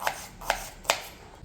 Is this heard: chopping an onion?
yes